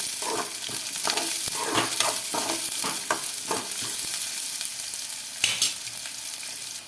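Cumin, mustard seeds and onions fry in a pan for egg bhurji, giving a steady close sizzle. A spatula stirs through it in a string of quick scraping strokes, with one louder burst near the end.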